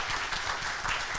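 A conference audience applauds the speakers at a lightning talks session, dense steady clapping filling the room for the whole moment.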